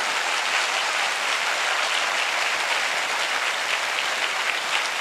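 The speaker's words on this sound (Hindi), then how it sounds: "इन खड़े हुए लोगों को और जो जमीन पे बैठ के ट्रेनिंग ले रहे हैं, इनके लिए जोरदार तालियां हो जाएं" Sustained, vigorous applause from a training audience, some standing and others seated on the ground, a thick continuous wash of many hands clapping with no talk over it.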